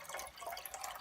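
About a second of water running into a container on a scale as it is measured for spelt bread dough, a soft splashing trickle close by.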